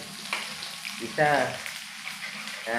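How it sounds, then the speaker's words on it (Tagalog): Ingredients sautéed in a pan, a steady close frying sizzle with a few louder hissing surges as the food is stirred and tossed. "Gigisa lang natin yan."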